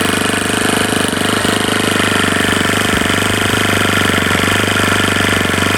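A Saito 50 four-stroke model aircraft engine, a refurbished swap-meet engine with restored compression, runs steadily on a bench at close range, a loud continuous buzzing drone with a fine rapid firing pulse and no voices.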